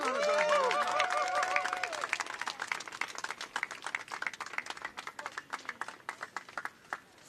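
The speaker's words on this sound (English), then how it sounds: "Come on, another real applause for Mia, please. Louder, louder." An audience at a NYC DOT Summer Streets announcement gives applause for Mia, clapping that trails off into scattered individual claps, following a voice.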